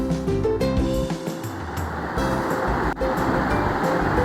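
Chopped large onion hitting hot oil in a pan for a yogurt curry, a loud, dense, continuous sizzle with a bit of clatter at the start.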